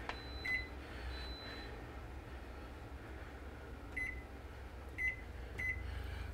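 A microwave oven cooking riced cauliflower, its low steady hum running throughout with several short electronic beeps near the end, no one speaking.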